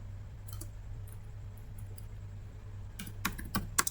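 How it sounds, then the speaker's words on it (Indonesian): Typing on a computer keyboard while configuring a MikroTik router: sparse soft key clicks over a steady hum, then a quicker, louder cluster of keystrokes near the end. "Kita mengetikkan"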